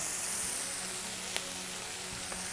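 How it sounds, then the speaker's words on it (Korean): Beef for a quesadilla, cooked from a meal kit, sizzles steadily in oil in a pan while being stirred with a spatula, a soft even hiss with a couple of faint scraping ticks. "뒤집개로 막 섞어줍니다."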